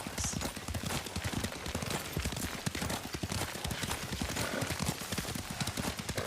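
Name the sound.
horse hooves while riding, from video game Ghost of Tsushima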